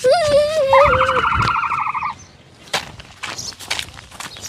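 A loud bird call with wavering, sliding tones fills the first two seconds. Scattered rustling and clattering noises follow at a lower level.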